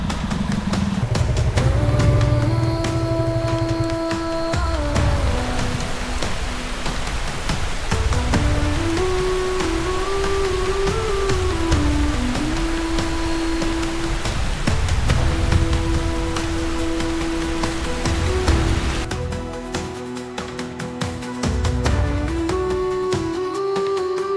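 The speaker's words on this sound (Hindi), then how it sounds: "अचानक से जोरदार बारिश शुरू हो गई।" Steady engine drone of a motorcycle on a solo ride toward Naneghat as sudden heavy rain begins, a continuous loud wash with rising and falling engine pitch throughout, no talking.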